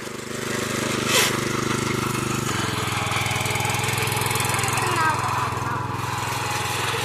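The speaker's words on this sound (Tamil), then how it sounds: "மினி டிராக்டர் மாதிரி இது" A small power tiller, a mini tractor-like plough, runs its engine loudly and close by with a steady chugging drone and a slight shift in pitch partway through, with no speech over it.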